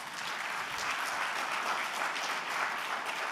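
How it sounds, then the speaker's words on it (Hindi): An audience at a summit talk claps steadily throughout, a dense, even wash of applause with no voices. "तो ताली बजाइए"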